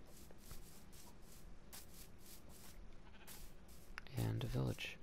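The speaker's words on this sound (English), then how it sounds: "Sheep." A sheep in the Minecraft video game bleats once near the end, a short, loud, wavering cry rising clearly over a steady background of game ambience and faint shuffling.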